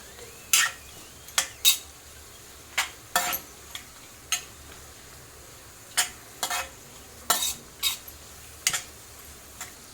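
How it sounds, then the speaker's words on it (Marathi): Dry coconut frying in ghee for a rice kheer, heard as a series of short, sharp spatula scrapes and clinks against the pan spaced irregularly over a faint low sizzle, with no talking. "आता आपण हे सुकं खोबरं हे टाकूया हे पण चांगलं तुपात फ्राय करून घ्यायचं"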